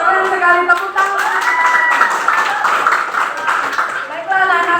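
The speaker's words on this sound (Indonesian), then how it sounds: "Wow, keren sekali, tepuk tangan." A class of schoolchildren in a classroom applaud, quick clapping running under lively voices and chatter, close and continuous.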